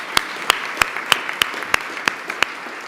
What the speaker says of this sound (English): So please, some applause to them